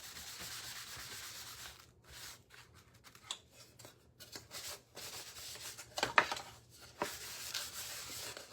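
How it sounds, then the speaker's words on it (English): Wax is rubbed by hand onto a painted pumpkin craft decoration, producing soft, irregular scratchy brushing and rubbing strokes, close and quiet, with occasional light taps. "Let's just throw some wax on it."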